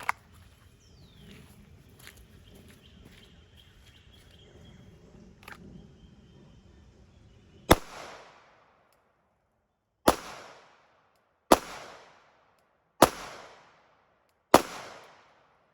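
A Shadow Systems MR920 pistol firing 124-grain hollow-point self-defense ammunition at an outdoor range: five loud, sharp gunshots spaced about two seconds apart, each followed by a short echoing decay, after quieter handling noise.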